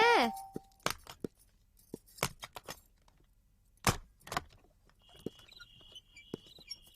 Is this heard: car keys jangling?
yes